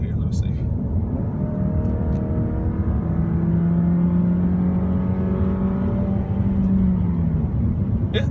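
A 2015 Dodge Dart GT engine drones steadily from inside the cabin on a test drive, its pitch climbing slowly as the car accelerates, with a constant road rumble beneath.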